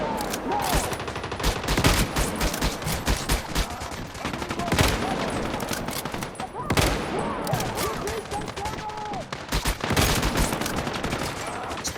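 Sustained gunfire in the video game Once Human during a solo dungeon raid in a forest, with dense rapid bursts and volleys crackling continuously at close range, a voice briefly shouting over the shooting.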